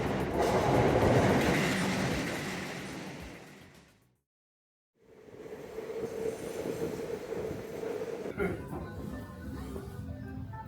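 A train rumbles past loudly on tracks beside a Tokyo hotel, fading to a brief silence before another heavy rolling rush with squealing wheels and clatter.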